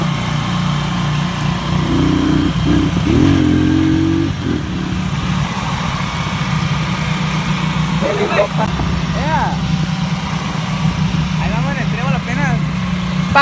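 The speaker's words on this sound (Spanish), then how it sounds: "La moto, ahí viene arrastrando" A motorcycle engine rumbles steadily and fairly close, a low continuous drone, while people talk over it.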